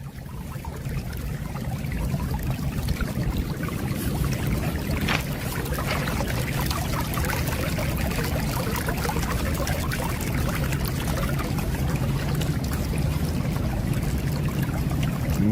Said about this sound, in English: Moving some water.